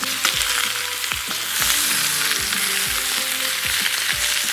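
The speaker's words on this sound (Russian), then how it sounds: "Немножко обжарим их до слегка румяной корочки" Quail and mushrooms fry in a kazan over a campfire until lightly browned, a loud, continuous sizzle with occasional stirring scrapes and bright crackle close by.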